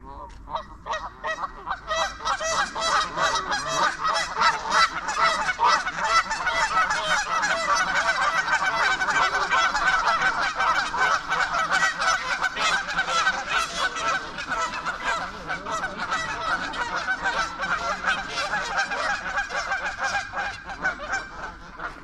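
A large flock of geese honks continuously and loudly, a dense overlapping din of calls sustained from start to finish with little pause.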